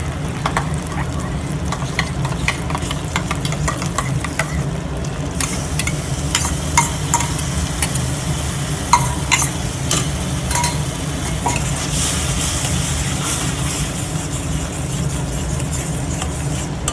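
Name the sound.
masala with cashew paste sautéing and stirred in pan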